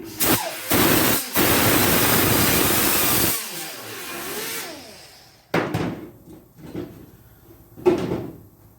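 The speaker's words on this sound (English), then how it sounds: "Gonna have to keep sanding this to kind of get our shape in here" Harsh, gritty sanding strokes rasp loudly for a few seconds on a Triumph Spitfire windshield, then pause, followed by several shorter separate scraping passes.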